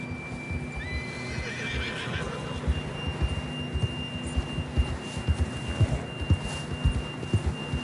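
A horse in a western-style video game neighs and whinnies early on while hooves clip-clop steadily underneath, close and fairly loud, with a faint background tone and no speech.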